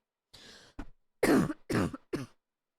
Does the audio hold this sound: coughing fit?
yes